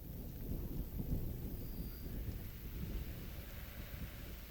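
A rolling thunderstorm in Mind over Magic gives a deep, sustained rumble mixed with rain and wind hiss, steady throughout with no voices.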